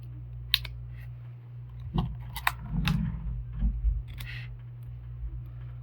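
A few quick, crisp snips from small scissors cut a nail polish strip flat. They sound sharp and close against a low steady hum, with light handling clicks between the cuts.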